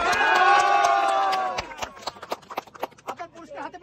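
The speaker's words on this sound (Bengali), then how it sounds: "সবাই করতালি দিয়ে" A crowd at an outdoor eating-contest prize event cheers loudly at first, then breaks into scattered, uneven claps that thin out toward the end.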